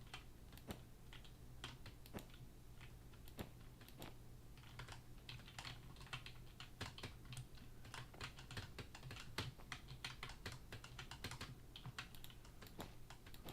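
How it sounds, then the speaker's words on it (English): A clacky computer keyboard typed on in bursts of sharp, close keystrokes with short pauses between runs, over a faint steady hum. "I'm so sorry about the clacky keyboard."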